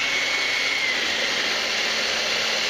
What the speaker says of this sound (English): Here goes the hair dryer.